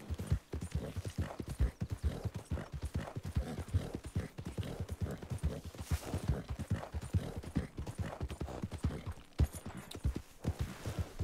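Horse hooves gallop in a steady, rapid clip-clop rhythm in the Red Dead Redemption video game, loud and close, running continuously throughout with no talking over it.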